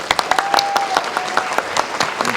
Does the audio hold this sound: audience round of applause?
yes